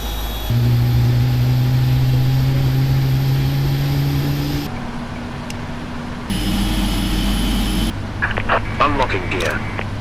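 Engines of a PMDG 777-200LR spool up inside Prepared3D flight simulator cockpit during pushback at Manchester, a steady loud turbine whine and rumble with tonal hum shifting in stages, while a voice speaks over it.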